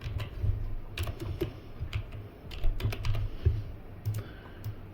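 Quick bursts of keystrokes on a computer keyboard while entering a variable name, close and fairly quiet, with brief pauses between short runs of clicks.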